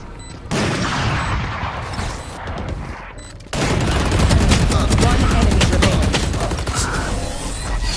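Gunfire during an esports video game match, dense rapid automatic bursts packed close together and very loud, briefly dropping out before resuming into a sustained barrage, with commentator voices underneath.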